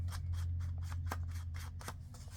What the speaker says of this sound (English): Sometimes I'll just take my 12 by 12s, depending on what it is, and I'll cut it down.